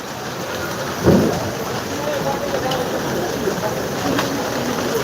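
Steady rain hisses throughout, with a brief low thump near the start and faint voices in the background.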